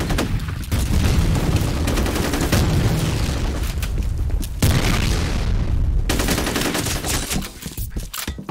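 Nonstop loud gunfire and a grenade blast rip through a firefight in F.E.A.R., with rapid automatic bursts, booming impacts and brief breaks in the din.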